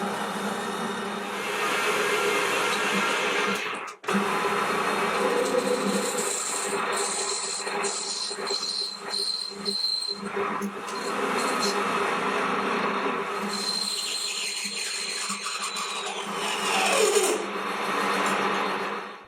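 Metal lathe knurling, turning and threading bar stock for an M5 thumb screw, a continuous scraping, rasping cutting noise with a steady whine, interrupted briefly by a sharp break, with speech over parts of it.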